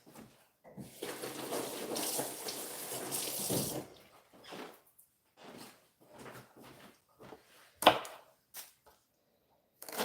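Young garlic is washed under a running kitchen tap, a steady close rush of water for about three seconds, followed by scattered handling knocks and small splashes, with one sharp clatter near the end.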